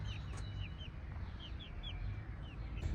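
Chickens in an outdoor garden give short, soft clucks and chirpy calls, several in a loose sequence, faint against a low background rumble.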